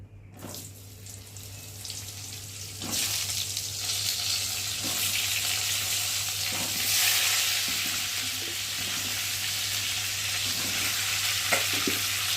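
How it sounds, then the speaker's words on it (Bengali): Pieces of pointed gourd (potol) are tossed into a hot wok and fry with a bright, continuous sizzle that swells after a few seconds, broken by occasional scraping and stirring knocks. "আর এখন আমি পটলগুলোকে দিয়ে ভালো করে ভেজে নেব"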